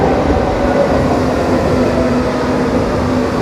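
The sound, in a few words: Berlin U-Bahn subway train arriving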